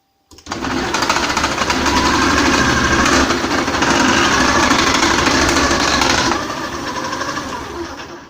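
A KitchenAid 2.1-litre food processor slices carrots on speed 1, giving a loud, steady motor whine with a dense rattling chop that starts abruptly, runs continuously for several seconds, then eases slightly before the end.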